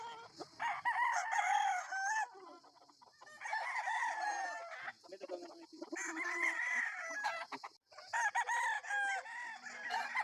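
Roosters crow repeatedly in long drawn-out calls, with chickens clucking between them, loud and close in a rural yard with gamecock stags being gathered.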